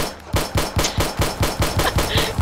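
Gunfire in 7 Days to Die, a steady run of about ten loud, evenly spaced shots in quick succession, close and unaccompanied by talk.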